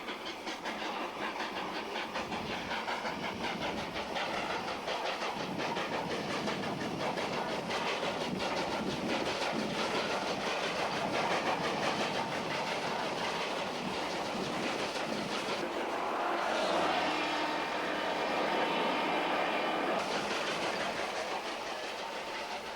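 A Nevada copper ore railroad train rolls steadily past in the Great Basin, its continuous rumble and clatter constant and moderately loud, with a hissing shift near the end.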